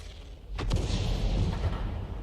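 Tank cannon fire in a video game, a muffled low boom followed by a rumbling thump in the middle distance, with no voices over it.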